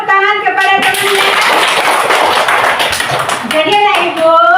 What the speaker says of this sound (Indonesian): Dan tepuk tangan kepada temannya.